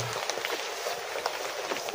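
Steady rain falls outdoors during a fishing trip, a continuous broadband hiss with scattered drop patter, fairly close and moderately loud, with no speech.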